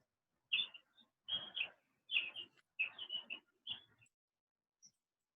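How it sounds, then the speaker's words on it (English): Small birds chirp in short bright bursts, about six quick clusters of high tweets over a few seconds, faint and distant in an otherwise quiet indoor background. "Who's got birds?"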